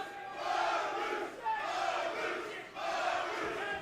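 A hometown arena crowd at an MMA fight roars in three swelling chant-like waves, loud and rhythmic, with no commentary over it.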